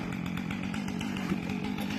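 A chainsaw cutting a big tree runs steadily at full power, a loud continuous buzzing roar that holds throughout, with no voices.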